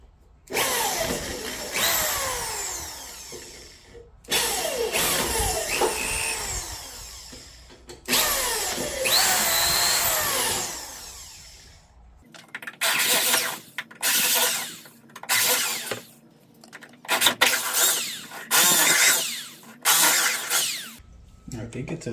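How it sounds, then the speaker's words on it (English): Power drill boring out a hole during an air suspension install on a 5th-gen Camaro SS, revving in repeated bursts of whine and grinding, loud and close, with short pauses between runs. "I'll continue to drill this out and then we'll see how it fits"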